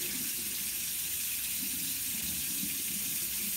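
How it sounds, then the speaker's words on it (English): Tap water runs steadily over a greased metal part being washed off in a sink, a constant close splashing flow with no voices. "So we will wash this off real quick."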